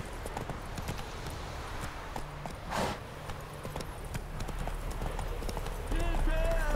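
Steady clip-clop of horse hooves at a walking pace in the video game The Witcher 3: Wild Hunt, rhythmic and close, over a constant low background rumble.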